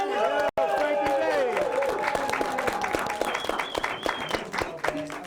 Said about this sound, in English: Round of applause for Frank Albanese